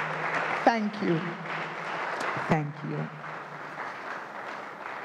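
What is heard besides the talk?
audience applause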